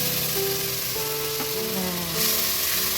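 Ginger-garlic paste fries with onions in a pan, giving a steady, close sizzle and hiss that runs through the whole moment, with faint tonal sounds in the background.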